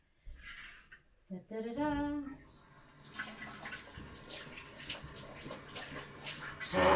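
Tap water runs into a sink or basin after a brief clatter, a steady splashing rush that holds at moderate level and ends with a louder burst.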